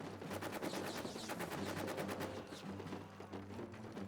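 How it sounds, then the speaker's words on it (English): Machine gun fire in the trench war game All Quiet in the Trenches, a continuous fast rattle of shots heard faintly at a distance through the whole stretch. "we're going to run through machine gun fire"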